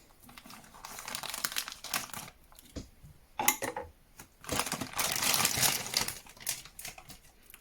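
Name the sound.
cutting open the packaging of a temperature probe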